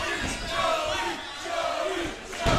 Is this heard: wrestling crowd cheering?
yes